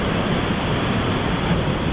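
A creek swollen by heavy rain during an atmospheric river rushes past in a constant loud, close roar of water with no breaks and no voices.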